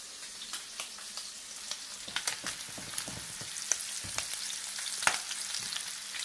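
Shrimp fry in a hot pan, giving a steady soft sizzle with scattered sharp crackles and pops and occasional stirring scrapes, fairly close and alone with no voices.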